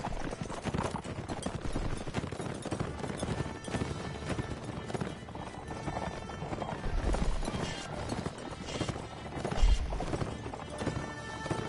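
Rapid hoofbeats of galloping cavalry in the video game Mount & Blade: Warband pound over a dense, noisy clash of battle, with a couple of heavy thuds standing out.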